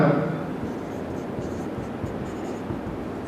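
Chalk or marker taps and scratches across a classroom board as notes are written during a chemistry lesson, a run of small, close, uneven strokes following a brief moment of a teacher's voice at the start.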